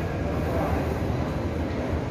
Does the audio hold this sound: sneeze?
no